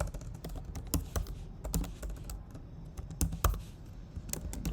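Computer keyboard being typed on at close range, a quick irregular run of soft clicks and key taps going on without a break, with no talking.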